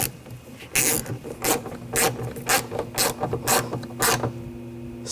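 Screws being tightened into a BMW X5 rear door panel, 2000-2005 model, giving a run of rhythmic ratcheting and rasping bursts close by, about nine short pulses with no talk.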